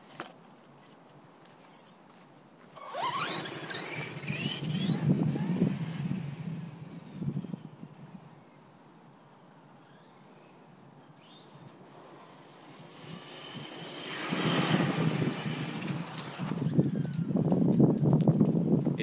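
A Haiboxing Dune Thunder (Bezgar) 4x4 RC truck on a 4S LiPo battery makes two speed runs, each a rising electric-motor whine and gravelly tyre rush that swells nearby and fades, with a quiet gap between passes.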